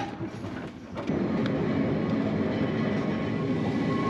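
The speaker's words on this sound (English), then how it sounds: "we squeal our way round and across the bridge over the glen" A Manx Electric Railway car rolls steadily along the rails on tight curves, with a continuous metallic rumble and faint high squeal, loud and close throughout.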